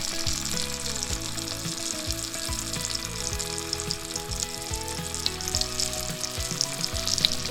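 Village-style chicken jhal curry sizzles and fries in a pan on a medium flame, giving a continuous close crackle with soft stirring scrapes and no talking.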